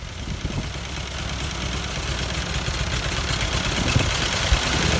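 A Ford 8N tractor engine running after starting, a loud, rough steady idle with a dense throbbing rumble and no voices.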